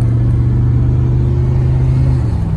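A 1986 Oldsmobile 442 accelerates with a loud, close, steady engine drone, a low rumbling tone holding pitch before easing slightly near the end.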